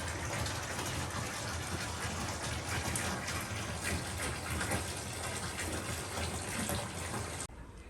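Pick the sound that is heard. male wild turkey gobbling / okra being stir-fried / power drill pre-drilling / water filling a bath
water filling a bath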